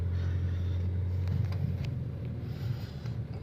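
A 2015 Toyota Vios 1.5J Turbo on 17-inch wheels drives along a road, heard from inside as a steady low engine and road rumble with faint wind noise and no talk.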